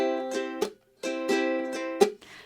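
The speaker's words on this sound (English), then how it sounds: "chucking happens when you strum and mute at the same time." A ukulele strummed with chucking, the palm muting the strings during the strum: bright chords ring briefly and are cut off by sharp percussive chucks, a short close-up rhythmic pattern with a pause in the middle.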